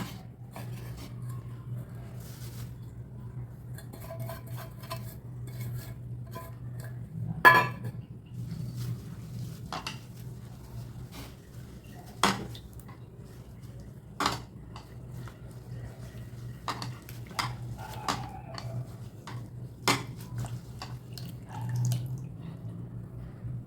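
Drumstick leaves being washed in water in a home kitchen, with faint dripping, splashes and light clinks of a vessel scattered over a steady low hum, no voices.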